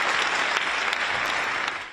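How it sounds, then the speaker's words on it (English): A crowd applauds steadily at a NATO event with Zelensky, a dense, even wash of clapping from many hands with no speech over it. "Applause too for Mark Rutte as he made a speech warning about the future dangers posed by Russia."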